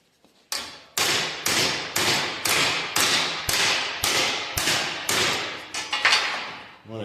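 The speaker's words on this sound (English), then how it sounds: "When I hit, I'm hitting down in this area on the back, so I'm close to the vise" A hammer strikes a metal bend for a truck cab corner mount close to a vise, about ten sharp ringing blows at a steady rhythm, loud and near, each decaying with a metallic ring, with no talk.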